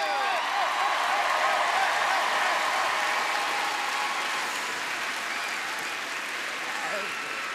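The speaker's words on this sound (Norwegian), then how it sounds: "synes jeg vi skal ha en applaus for mødrene" Studio audience at the Norwegian Melodi Grand Prix 2012 semi-final applauds the mothers, a loud, steady wash of clapping that fades slightly toward the end, with some voices mixed in.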